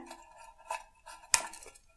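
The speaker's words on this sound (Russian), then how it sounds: "С помощью ножниц мы нарезаем мелкими-мелкими вот такими кусочками хвою, веточки." Scissors snip pine needles and small twigs into tiny pieces over a container, a few light, separate metallic clicks and crisp snips, close and fairly quiet, with one sharper cut standing out.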